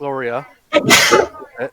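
A single sharp human sneeze lands between bits of conversation, close and loud, with people talking just before and after it in a tabletop role-playing session.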